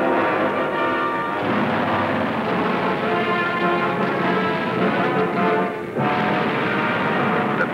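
The big guns of the WWII battleships USS Colorado and USS Maryland fire at Tarawa Atoll, heavy booms over a continuous rumbling bombardment that carries on under dense noise.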